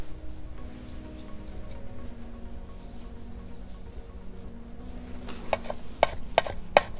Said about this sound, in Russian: берем зелень и нарежем ее